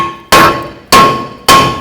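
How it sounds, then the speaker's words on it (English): A hammer strikes the brake rotor of a 2004-2010 Toyota Sienna three times in an even rhythm, each blow a loud metallic clang that rings on with a steady tone and fades slowly. "you can take a hammer, give it a couple taps"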